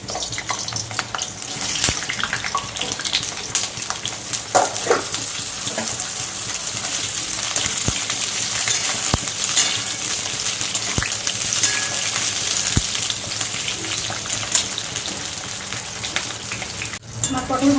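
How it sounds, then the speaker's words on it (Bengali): Sliced pointed gourd (potol) frying in oil in a wok, a continuous close sizzle and crackle with occasional sharp clinks of a utensil against the pan, lasting throughout. "এবার আমি পটলগুলো ভেজে নেব।"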